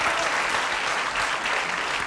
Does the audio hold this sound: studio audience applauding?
yes